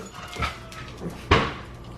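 Dogs scuffle and whimper in a home kitchen during cooking, with a few short yips and whines at close range, one sharp bark-like burst standing out over low background noise.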